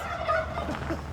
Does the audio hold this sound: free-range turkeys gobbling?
yes